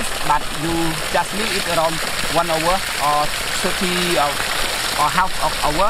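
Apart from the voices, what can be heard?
water rushing through pipe into tank from river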